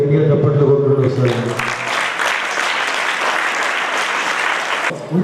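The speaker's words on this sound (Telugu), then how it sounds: "గురుజీకి గట్టిగా చప్పట్లు కొట్టుకుంటూ వస్తారు" Loud, sustained applause from an audience for the guru at a parents' foot-worship ceremony at Aurobindo school, breaking out after a voice and holding steadily for several seconds before cutting off.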